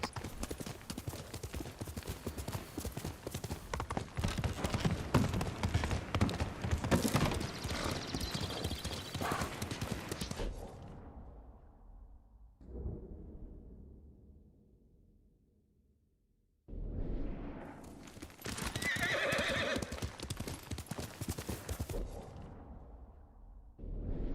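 Video game horse galloping with heavy clip-clop hoofbeats and a whinny, loud and busy, then dropping to near silence before the galloping returns strongly.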